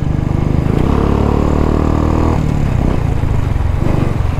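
A modified motorcycle with an aftermarket silencer runs loudly and close by, its engine droning steadily with a brief rise and drop in pitch partway through.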